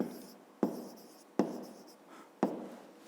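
Handwriting during a maths lesson: a pen scratches across paper in short strokes, with three sharp taps as the pen comes down, close and alone.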